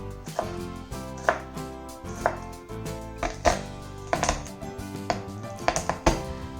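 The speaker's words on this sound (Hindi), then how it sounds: "हरी मिर्च, अदरक और लहसुन को फाइन चॉप करके और थोड़ा नमक मिला के पेस्ट बना लेंगे।" Knife chopping green chilli, ginger and garlic finely on a board in a home kitchen: a steady run of close, crisp taps with irregular rhythm, no voices.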